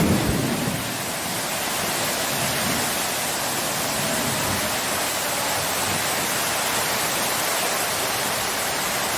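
Heavy rain pours down in a continuous dense roar, with low thunder rumbling underneath, steady and close throughout with no voices.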